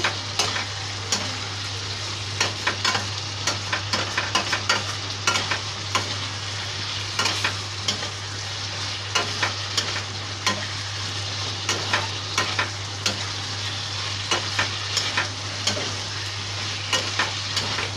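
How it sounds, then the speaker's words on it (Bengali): Spice paste and soybean chunks are stir-fried in a pan, with hot water added bit by bit. A constant close sizzle runs under a steady rhythm of spatula scrapes and taps for the whole stretch, with no voices. "দেখো মশলাটাকে খুব ভালো করে কষাচ্ছি খুব ভালো করে কষাতে হবে"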